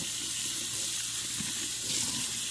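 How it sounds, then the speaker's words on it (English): Running tap water pours steadily over a jewelry chain being rinsed in a sink, a close continuous hiss and splash with no talking. "So I'm going to rinse it off again."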